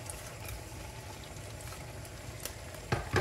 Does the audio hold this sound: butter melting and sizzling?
yes